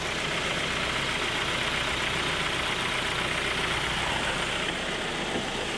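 A 2006 Hyundai Sonata with 111K miles idles smoothly as a constant, close, dense hum with no break.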